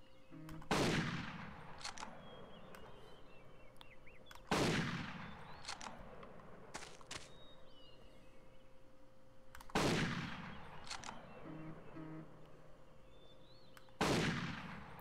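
Four loud, sharp rifle shots spaced a few seconds apart ring out in Cabela's Big Game Hunter (2002) during an Arizona hunt for a running bobcat, each with a fading echoing tail over quiet outdoor ambience.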